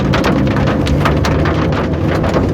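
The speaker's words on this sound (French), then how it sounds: "Oh la grêle, la grêle, la grêle, la grêle, la grêle." Hail hammers a storm-chasing car during a supercell, a loud dense rattle of rapid impacts drumming continuously on the body with no voices.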